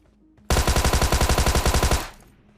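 Rapid burst of sniper-style gunfire from an AWM in a video game, a dense stream of about fifteen sharp, loud shots over a second and a half that cuts off abruptly, leaving faint background hum.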